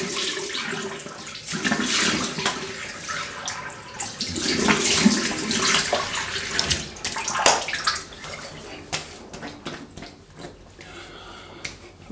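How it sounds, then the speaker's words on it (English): Water splashes and runs during a rinse after a wet shave with a razor, continuous sloshing and trickling close by, with a few brief sharp clicks and no talk. "let's have a quick rinse and a feel about"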